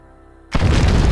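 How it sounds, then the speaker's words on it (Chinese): Explosive charge detonated to blast open a wall in the State of Decay video game, a single loud, close boom that bursts in after near silence and rumbles on. "谭中是觉得自己已经没救，染病了，他就直接要牺牲自己，要在近距离引爆炸药，炸开那道墙。"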